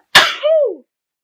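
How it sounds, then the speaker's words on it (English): A single sharp sneeze, close and loud: a quick explosive burst followed by a short voiced trailing exhale, then silence. "I'm gonna sneeze"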